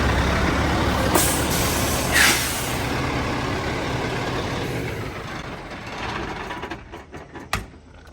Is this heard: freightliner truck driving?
yes